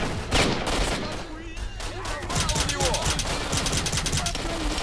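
Rapid automatic gunfire bursts in S.T.A.L.K.E.R.: Shadow of Chernobyl, loud and dense with overlapping shots, close and echoing, with a voice briefly heard between bursts.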